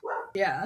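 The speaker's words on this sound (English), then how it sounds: "Sorry about the dogs." Dogs barking indoors in the background, a short yelp followed by a sharper bark, close and fairly loud, with a person speaking over them.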